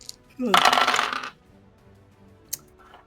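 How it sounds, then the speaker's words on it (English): A handful of dice tumbles and clatters across a table during a tabletop role-playing game, one busy rattling burst lasting under a second, followed by a single faint click. "Let me roll some dice. I got a lot of dice I gotta roll."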